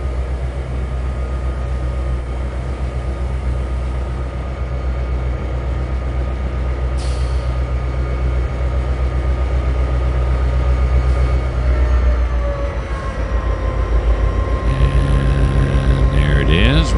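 Grain train rolling along in the Trainz 2022 railroad simulator, a steady low engine drone with rail rumble and a shifting horn-like tone near the end, continuous and fairly loud.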